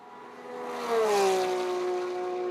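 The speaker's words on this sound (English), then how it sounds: "You can hear the TC interrupting the power delivery coming off that corner as he's still trying to get the power down" A GT race car engine at Sebring during GT World Challenge America qualifying, with traction control cutting power out of a corner, drones as a steady tone that dips in pitch and holds.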